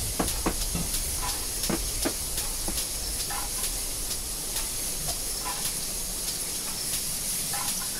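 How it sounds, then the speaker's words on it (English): Steam hisses steadily from a train coming to a stop in Train Simulator 2015, a constant loud spray of air broken by faint clanks and short metallic ticks. "let's stop the train"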